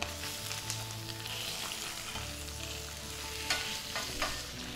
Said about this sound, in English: we'll add the oil and swirl to coat well. And we'll add our tilapia fillets.